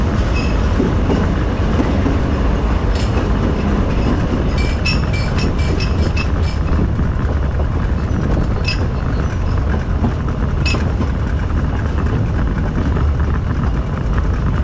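A park railway salon car rolls along small-gauge track through a park, and its loud continuous rumble and wheel noise sit close, with occasional metallic clicks and faint squeaks from the rails.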